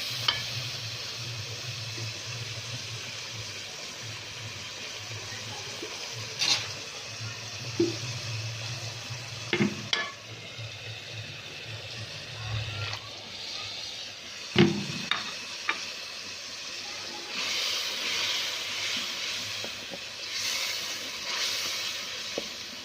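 Whole spices sizzle and get stirred in a frying pan while cooking sabut mash dal, a steady hiss with scraping stir strokes and a few sharper clinks against the pan, close and continuous.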